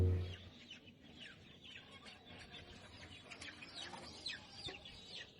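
Native country chickens and roosters at a village market, the Golakandail haat, clucking softly and continuously at a fair distance, with a few sharper calls and faint background chatter.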